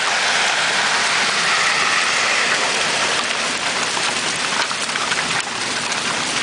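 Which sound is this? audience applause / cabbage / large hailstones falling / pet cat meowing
large hailstones falling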